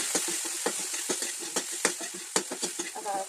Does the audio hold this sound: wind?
no